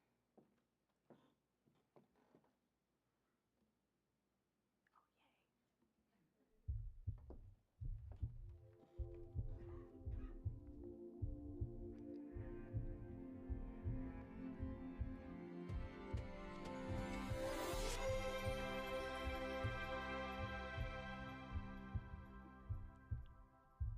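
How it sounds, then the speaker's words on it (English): A recorded heartbeat starts softly and becomes a loud, steady low thumping that continues under swelling music for the rest of the stretch. "Do you like the heartbeat?"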